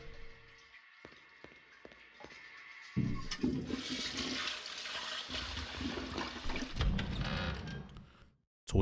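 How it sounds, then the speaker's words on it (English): A toilet in the horror game Silent Hill flushes. A few faint clicks come first, then a loud rushing surge of water swirls for several seconds before cutting off abruptly. "Toilet flushed."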